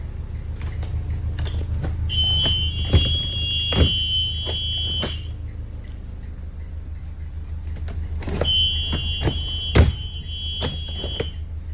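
Two bursts of a high, steady electronic buzzer tone from an emergency alarm sound a few seconds apart, each lasting a few seconds, over a low hum and clicks.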